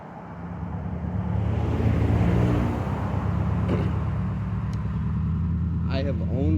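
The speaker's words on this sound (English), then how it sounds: "I think we have a local e-bike shooting by." An electric bike whooshes past outdoors, its steady rumble swelling and fading under ongoing talk, with a brief whine near the end.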